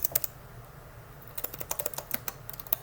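Rapid, uneven key clicks from a new laptop keyboard, faint and close, with a short pause before a busy burst of typing resumes.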